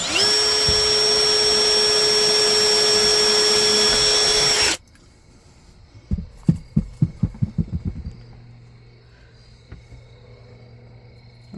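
A power drill whines at a steady high pitch for about five seconds while drilling holes to install an Encore RV ROG screen door. It then cuts off, followed by a quick run of close clicking taps.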